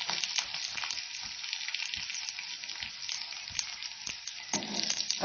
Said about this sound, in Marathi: इथे आपण कढईमध्ये थोडं तेल घेतलंय, अगदी अर्धा चमचा, आणि त्यामध्ये 2 मिरच्या, लसूण आणि जिरे असं आपण छान परतून घेणार आहोत.